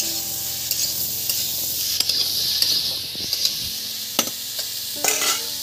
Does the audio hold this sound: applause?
no